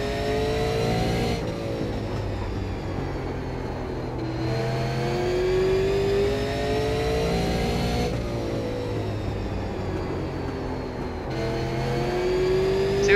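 A Super Late Model race car engine in the iRacing simulator drones steadily and close, its pitch rising through each acceleration and dropping sharply at the shifts or corners, repeating in a cycle of lifts and climbs.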